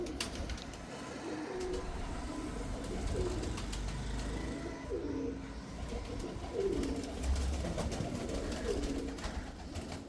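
Teddy pigeons cooing repeatedly in a loft, soft rhythmic coos recurring every second or two at close range over a low background rumble, no talk.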